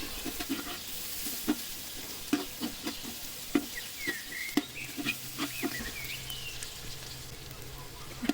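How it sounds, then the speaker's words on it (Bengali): Chopped onions frying in oil for chicken biryani, stirred with a utensil: a steady soft sizzle under irregular scraping and clacking strokes, moderately close, with no talking. "পেঁয়াজ দেওয়া হয়ে গেলে এগুলোকে কন্টিনিউ নাড়তে হবে"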